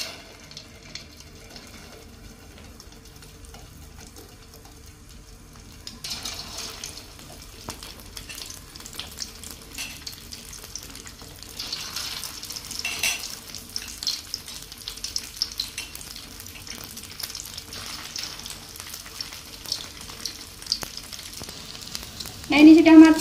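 Grated tempe meatball satay frying in a pan of hot oil, giving a steady soft sizzle that grows busier after a few seconds and ends with a louder burst of crackle.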